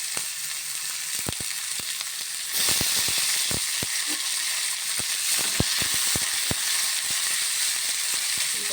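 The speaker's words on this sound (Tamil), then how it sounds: "கொஞ்சோண்டு எண்ணெய் ஊற்றிக்கலாம் இதை தாளிச்சிக்கலாம்" Onions and tomatoes sizzle steadily in hot oil for a mutton curry, with a loud continuous frying hiss that swells partway through and scattered sharp pops and spoon clicks close by.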